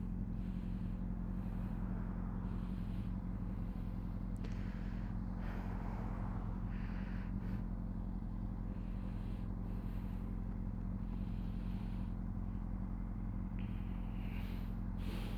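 A Honda CBR600RR motorcycle cruises along a road on a ride to school, its engine a steady close drone under constant wind rush, with faint shifts in pitch as the rider holds speed.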